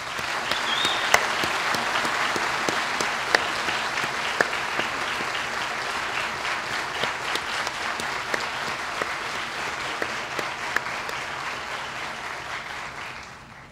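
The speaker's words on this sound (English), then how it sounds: "I ask you to join me in a round of applause for your faculty and your family and friends" A large audience at a university spring convocation ceremony applauds steadily for nearly fourteen seconds, a broad wash of clapping with a few sharp claps standing out before it tapers off at the end.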